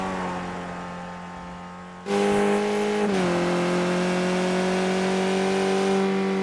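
A Skip Barber race car at Spa-Francorchamps in a racing sim, its engine holding a steady loud drone before a sharp rise in level, then a pitch drop as the car brakes and shifts down.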